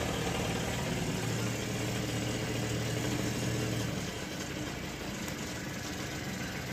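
A motorcycle engine with all-LED lighting idles with a steady low hum, then shifts slightly in tone after about four seconds as the throttle is given a small blip.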